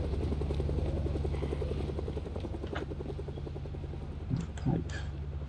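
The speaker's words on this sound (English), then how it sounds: "Whenever that helicopter circles around" A helicopter circles overhead in the survival video game Project Zomboid, its steady rotor chop droning loud and continuous, with a couple of brief thumps near the end.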